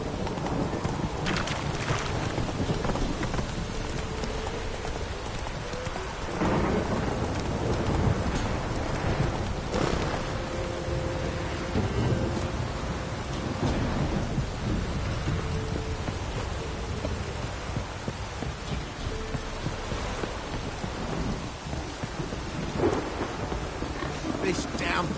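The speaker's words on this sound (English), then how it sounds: "This downpour's a bastard" Steady heavy rain in The Witcher 3 patters across surfaces, with occasional dull thumps and low rumbles beneath the continuous wash of the downpour.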